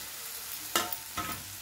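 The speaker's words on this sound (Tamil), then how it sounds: "உருளைக்கிழங்கு சேர்த்துட்டு நல்லா அப்படியே கிளறி விடலாம்." Mashed potato pieces stirred into a frying masala for Tamil potato poriyal, a low steady sizzle broken by two short scraping stirs of a spoon in the pan, close and quiet.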